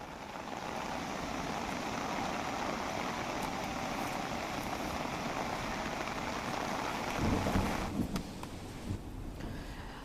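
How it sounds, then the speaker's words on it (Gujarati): Monsoon rain falls steadily through the night in Savarkundla, Amreli, as a continuous soft, dense patter with a slight swell toward the end and no one talking. "અમરેલીના સાવરકુંડલામાં મોડી રાતથી વરસાદ ચાલુ છે।"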